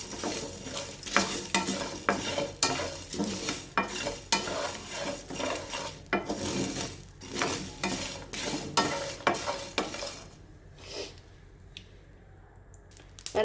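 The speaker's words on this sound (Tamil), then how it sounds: "கொஞ்சோண்டு கருவேப்பிலை, இப்போ பார்த்தீங்கன்னா பூண்டு, இஞ்சி எல்லாம் இப்போ வதக்கிக்க போகிறோம்." Curry leaves, garlic and ginger dry-roasting in a pan for a Hotel-style chicken gravy, stirred steadily with a spoon scraping and rustling in a brisk rhythm, light sizzle underneath, close and loud, quieting to a faint hiss near the end.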